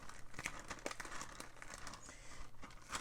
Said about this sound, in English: stirring your mixture together in the bag.